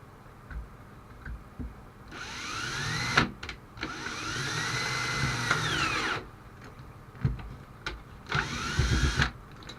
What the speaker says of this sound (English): I've managed to get it drilled out